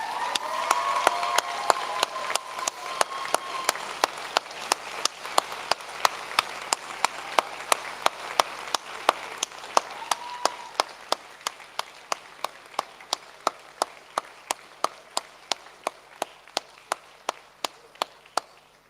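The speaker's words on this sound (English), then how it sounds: "give them a cheer and a round of applause" A graduation ceremony crowd applauds steadily, with dense clapping that thins over time into a few scattered, louder individual claps.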